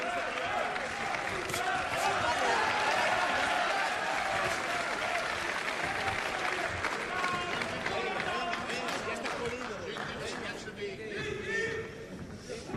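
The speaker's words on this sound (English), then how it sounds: "Crowd chanting the name of Nader." Boxing crowd chanting the name of Nader during Marcos Nader's fight with Roberto Santos, a loud, continuous arena roar with rhythmic swells, while a commentator talks over it.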